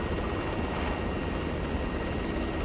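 A Black Hawk helicopter in the military video game ArmA 3 (Takistan map) drones as a steady, dense rotor and engine roar, constant and moderately loud throughout.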